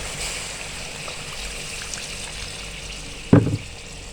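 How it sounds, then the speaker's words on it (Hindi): Water is poured from a container into a pot of chicken laziz gravy on the stove, a short splash near the end after soft background hiss. "इसमें पानी शामिल कर देंगे।"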